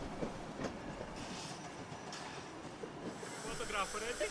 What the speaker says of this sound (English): The train glides by into the loop line and comes to a gentle stop.